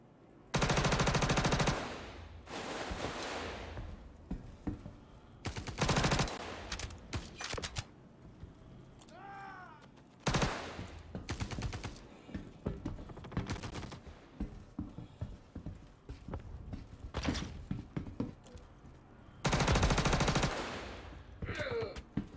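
Machine gun fire in Star Citizen from a low-recoil weapon with a 45-round magazine, loud close bursts of rapid automatic fire separated by short quieter gaps, with faint background game noise between.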